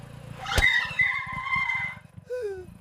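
A lone motorcycle draws up on a roadside and brakes hard, a sharp tyre skid carrying over a low engine rumble for about a second and a half before fading out.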